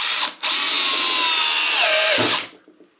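Black+Decker BL188 cordless drill boring through wood, running loud and steady for about two seconds with a brief stall near the start, its pitch sagging as it loads up before it stops.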